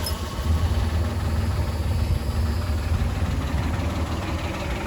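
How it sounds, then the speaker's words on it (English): A 1985 Ford Ranger engine idles steadily just after restarting following an engine teardown, a low, even rumble with a faint knocking texture, close and continuous with no talk. "That started immediately, and it's running pretty smooth."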